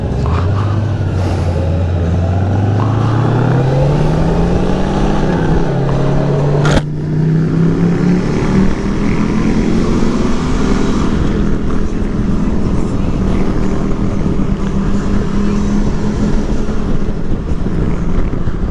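A group of motorcycles rides out together in northeastern Nevada toward Taylor Canyon, with engines droning steadily and loudly close by, rising in pitch as the bikes accelerate under continuous wind and road noise.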